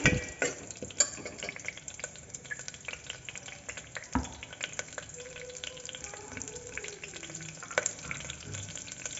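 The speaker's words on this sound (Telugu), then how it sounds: "కొద్దిగా శనగపప్పు తర్వాత కరివేపాకు ఇవి వేసుకొని బాగా వేయించుకుందాం" Chana dal and curry leaves frying in a pan with mustard and cumin seeds, a soft low sizzle broken by scattered clinks and scrapes from stirring.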